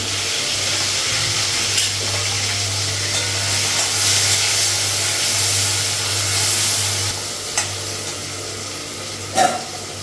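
Tomatoes and green chillies frying in fish oil with panch phoron, a loud, steady close sizzle and hiss with a few brief knocks and clatters near the end, and no talk.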